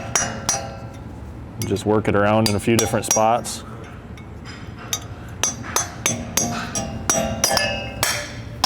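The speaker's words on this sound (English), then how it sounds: "I like to use a chisel, just a hammer." Hammer striking a chisel to pry the dust cap off a wheel hub on a 2020+ GM 2500 truck during a lift kit install: a run of sharp metallic clinks in irregular bursts, close by, with someone talking briefly partway through.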